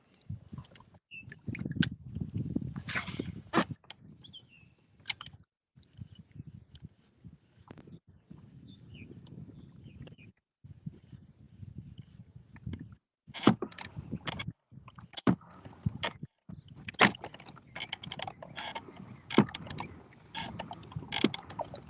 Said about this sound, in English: That's me paddling.